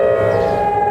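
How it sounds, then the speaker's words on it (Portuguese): An extreme heat warning siren wails steadily and loudly, a brief sustained civil-defense tone heard alone. "A sirenezinha do calor extremo."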